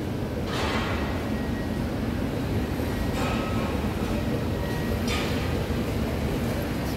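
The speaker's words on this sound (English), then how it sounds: "So that's the SkyTrain over there, so it's just like crisscross." A BTS SkyTrain near Phaya Thai station in Bangkok rolls past with a steady heavy rumble and periodic clacks from the wheels, heard from nearby without speech.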